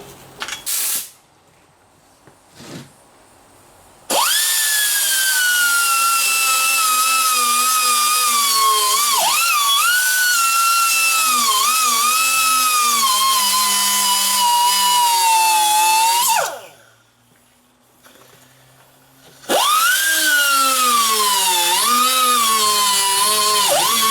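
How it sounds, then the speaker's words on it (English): Circular saw cutting through metal on a trailer build, two long loud whining cuts with shifting pitch as the blade loads, split by a short pause and preceded by brief taps. "I like the saw. Circular saw."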